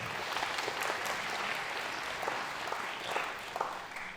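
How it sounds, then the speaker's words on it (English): Audience applause at a middle school winter band concert, a dense steady wash of many hands clapping that fills the whole stretch at an even level, with no talking over it. "let's go ahead and give him a round of applause"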